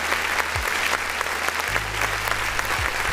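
Steady clapping from a crowd, continuous and fairly loud throughout, with low rumbling tones underneath.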